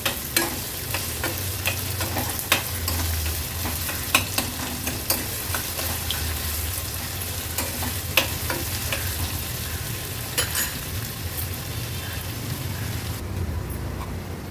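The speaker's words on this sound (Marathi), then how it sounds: "कांदा आणि आलं लसूण क्रश व्यवस्थित आपल्याला शिजवून घ्यायचं आहे" Chopped onion with ginger-garlic paste sizzles steadily in a pan for an Agri-Koli style seafood thali, with a spoon scraping and stirring in occasional sharp taps throughout.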